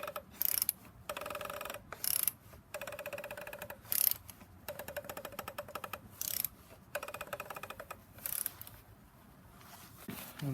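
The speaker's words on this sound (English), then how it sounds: "And then we torque that thing at 221 pound-inch." Ratcheting clicks from a torque wrench tightening bolts on a BMW N54 engine during a rebuild, in repeated short bursts with pauses between, close and moderately loud.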